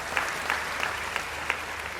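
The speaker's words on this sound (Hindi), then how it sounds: "आप उनके स्वागत के लिए एक बार तालियां बजाकर" An audience at a kavi sammelan in Jodhpur claps to welcome a poet to the stage, a steady wash of moderately distant applause with a few sharper individual claps.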